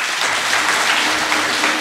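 A crowd at a religious sermon on the Narmada pilgrimage claps in unison on request, a dense, loud, steady patter of hands filling the moment without talk.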